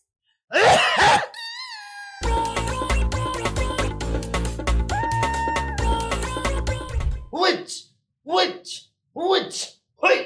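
A harsh cough bursts out, followed by a tone and a stretch of loud music, then several short coughing or voiced bursts near the end.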